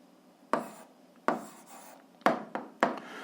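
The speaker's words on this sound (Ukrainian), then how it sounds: "І записуємо відповідь, пишемо відповідь." Handwriting of an algebra answer, a few distinct pen taps and short scratches on paper spaced irregularly, close and fairly clear, with no talk.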